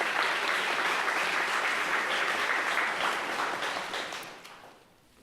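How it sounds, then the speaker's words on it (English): A big round of applause at a city council meeting, dense and sustained clapping from the room that tapers off and fades out over the final second. "let's give another big round of applause"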